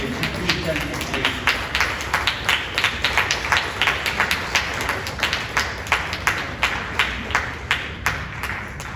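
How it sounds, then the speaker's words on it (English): An audience at the Tyagaraja Aradhana festival gives a standing ovation, clapping loudly in a steady, unified rhythm of about three beats a second that holds throughout, with a voice underneath. "raise and offer a standing ovation along with heartfelt applause to our founder"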